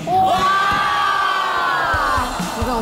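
A small group in a food show setting claps and cheers excitedly as ice cream is brought in, with sharp handclaps under rising whoops and shouts, close and lively.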